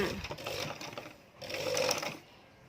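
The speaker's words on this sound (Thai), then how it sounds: "ยกตีนผีขึ้นเนาะแล้วก็หมุนผ้านะคะ หมุนผ้า แล้วก็เย็บมา" A sewing machine runs in two bursts of rapid, steady stitching through fabric, close and clear, with a short pause between runs as the cloth is turned.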